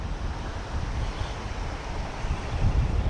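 Wind buffeting a microphone outdoors beside a creek, a continuous rough low rumble with broadband rush, swelling stronger near the end, with no other clear sounds.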